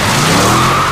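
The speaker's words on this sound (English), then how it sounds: "Their car gets smashed and crashed" A car skids loudly in The Last of Us, a close, sustained tire screech with engine roar filling the whole short moment.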